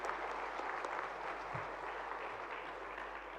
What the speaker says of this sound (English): I think we need a round of applause to encourage these winners on stage.